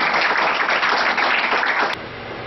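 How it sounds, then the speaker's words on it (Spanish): An audience in a talk on emotions applauds a participant named Gabriela, a dense, even wash of clapping heard fairly close, holding steady for about two seconds before dropping off abruptly. "Un aplauso para Gabriela."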